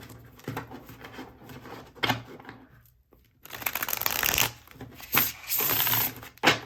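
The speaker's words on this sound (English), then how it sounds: "So I'm just going to give these a good shuffle" A deck of tarot cards is shuffled by hand in bursts of crisp riffling and slapping, with a brief quiet gap midway, close and fairly loud, and no one talking.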